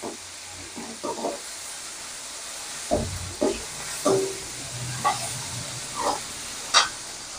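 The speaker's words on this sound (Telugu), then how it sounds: "ఇప్పుడు కొత్తిమీర కూడా తాలింపులో వేసుకొని కొద్దిగా అలా ఏగేలా" Coriander goes into hot tempering oil for a fish curry tadka and sizzles in short bursts of hissing and spattering. The bursts come close together as it is stirred, and a person talks over the frying.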